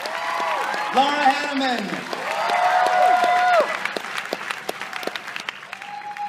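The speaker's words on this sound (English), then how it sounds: "please give them a warm Scary Farm round of applause" Audience applause at a Knott's Scary Farm 2013 preview show, a steady crowd clapping that swells and holds under an amplified announcer's voice and tonal sound.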